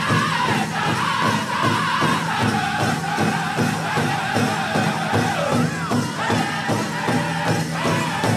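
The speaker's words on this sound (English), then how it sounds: "Cheer them on. Bring them out." Crowd cheers and calls out at the Saturday night grand entry of the 2023 Gathering of Nations powwow, with steady drumbeats and singing sounding continuously through the loud arena noise.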